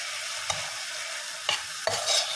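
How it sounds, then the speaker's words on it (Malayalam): Duck stew gravy with curry leaves being stirred in a pan, Kuttanad home style: a soft continuous sizzle broken by three distinct spoon scrapes against the pan, close and alone with no talking. "ഒന്ന് ഇതിലേക്കൊന്ന് ഇളക്കി യോജിപ്പിക്കുക"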